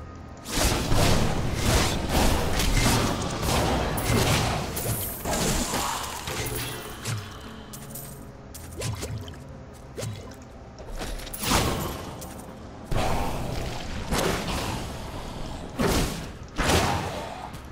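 Wizard spell explosions in Diablo 3, dense and loud, with repeated booming bursts and crashing impacts that stack and overlap throughout, some spaced a second or two apart, over a busy rumbling game soundscape.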